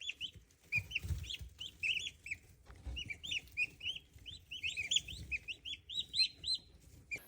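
Young turkey poults in a barn chirp constantly in high, overlapping peeps, with soft thumps and low rustling below them and no talking.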